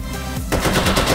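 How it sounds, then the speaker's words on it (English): Rapid automatic AK rifle fire in the H3VR virtual reality shooter, a loud, dense burst of shots that starts abruptly after a brief quieter lead-in and continues to the end. "I love firing the AK."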